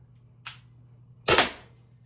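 A single sharp crack from an Umarex HDP50 air pistol firing a shot, close and loud, preceded by a fainter click and followed by silence.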